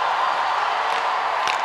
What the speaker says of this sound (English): The crowd is liking the effort.